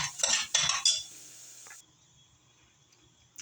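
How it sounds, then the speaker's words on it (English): Poultry seasoning is stirred into a pot of cream of mushroom soup: a metal spoon scrapes and clinks against the pot in a few quick, close strokes, then things fade to near silence. "We're going to stir that in."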